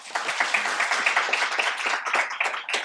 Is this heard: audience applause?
yes